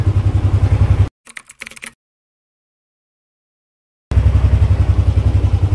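A Yamaha NMAX scooter engine idles to warm up, loud and close with a steady rapid pulsing, cutting off briefly for a few faint clicks and several seconds of silence before the idle resumes.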